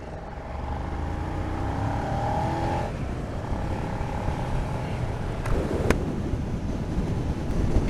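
A 2020 Suzuki SV650 V-twin motorcycle pulls away after light clutch feathering, its engine note rising steadily over a broad rumble and heavy wind buffeting at the microphone, with no talking.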